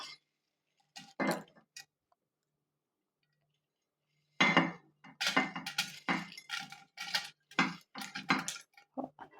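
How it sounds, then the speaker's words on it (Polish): Chopped beetroot pieces tipped from a plate into a glass jar for fermented beet starter, a quiet series of clinks and soft knocks and rattles after a pause. "Wszystko wrzucamy sobie z drugiego talerza do drugiego słoika."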